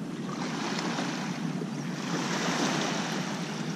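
Waves washing on the beach at Lucky Bay, Esperance, a steady broad rushing surf with some wind noise, continuous and fairly loud throughout.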